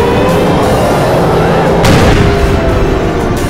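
Tank cannon fire in ArmA 2, a large-scale tank battle: one heavy, loud boom erupts over dense ongoing battle noise and rumble, with a faint voice mixed in.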